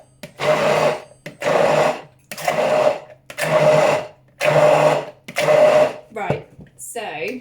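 An electric mixer whips homemade truffle mayonnaise in six evenly spaced whirring bursts with short pauses between them, ending in a few brief clattering knocks.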